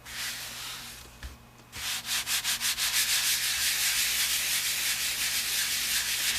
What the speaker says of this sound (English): as you rub these pages more and more now that you've sanded it, it'll be just like butter